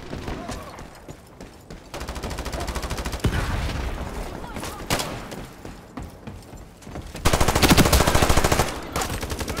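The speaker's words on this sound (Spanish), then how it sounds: "Me estaban disparando también de otro lado y no sé de dónde." Thompson submachine gun fire in the online shooter Ironsight, rapid rattling bursts of automatic shots, loud and close, with a longer sustained burst near the end and brief pauses between volleys.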